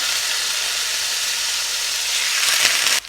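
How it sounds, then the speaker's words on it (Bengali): Pieces of rui fish slipped into hot oil in a frying pan give a loud, steady, close hissing sizzle that swells slightly before cutting off abruptly at the end. "তেলটা গরম হয়ে গেছে এখন আমি ফিশগুলো আস্তে আস্তে দিয়ে দিচ্ছি"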